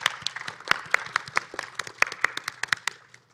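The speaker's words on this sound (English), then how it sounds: "Big round of applause for our panelists, as well as the tech crew" An audience at a PAX Unplugged 2022 convention panel claps steadily for a few seconds, individual sharp claps standing out in an uneven patter, fairly close and moderately loud.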